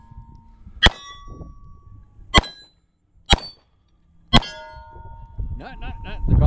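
Four loud metallic clangs ring out from a steel gong target struck by shots during a shooting match, spaced about a second apart with short ringing tails, followed by a rising jumble of voices and movement.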